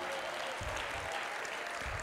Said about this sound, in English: Let me see you laugh as you clap for the Lord.